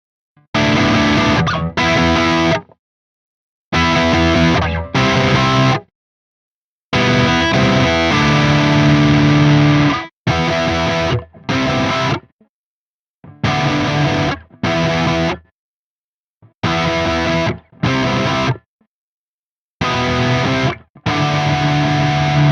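Distorted electric guitar with humbucking pickups, played on the neck pickup in switch position 3, strums loud chords and riffs in bursts separated by silent gaps, with no voices.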